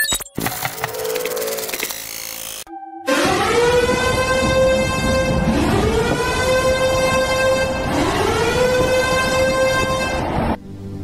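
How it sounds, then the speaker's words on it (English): An outdoor storm warning siren wails in long rising and falling sweeps, loud and steady over a low rumble, following a few seconds of other noise at the start. "At the beginning of the clip, we hear the storm siren go off"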